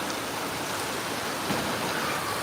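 Dense, steady rainfall in Jandoke, Sri Muktsar Sahib, heard as an even wash of broadband hiss that stays close and unbroken for the whole short stretch, with no voices over it.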